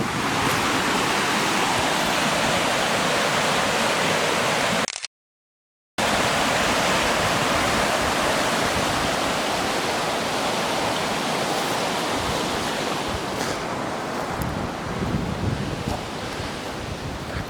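A river at the base of the Sangres gives off a constant rushing roar with wind buffeting the microphone. It cuts to silence for about a second, then carries on unchanged with no voices.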